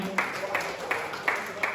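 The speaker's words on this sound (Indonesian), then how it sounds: "Tepuk tangan bagi kita semuanya." A seminar audience of school heads claps in a rhythmic pattern, five evenly spaced group claps in quick succession at close range.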